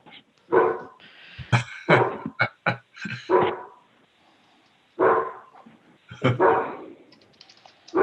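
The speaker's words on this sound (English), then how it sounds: "I don't think that's Allison's dog" A dog barks in short, loud bursts in the background of a remote municipal meeting call. Bouts of barking come with brief gaps between them, and some whimpering yips are mixed in.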